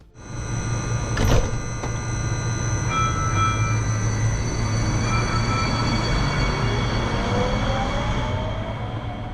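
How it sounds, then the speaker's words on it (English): A Silicon Valley light rail train pulls up to a platform stop, with a steady low rumble and tonal electrical whine, a brief sharp clunk early on, and a rising pitch sweep as it slows, no talk. "I press for Berryessa, and we pull up to a stop at the platform."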